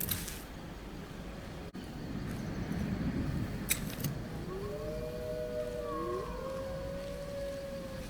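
Wolves howl in the video game Skyrim, a few drawn-out rising and falling cries sounding at a distance over steady ambient wind, with no talking.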